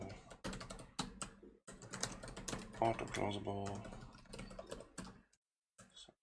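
Rapid clattering keystrokes on a computer keyboard come in irregular bursts, close and fairly quiet, while someone talks through the work over the typing.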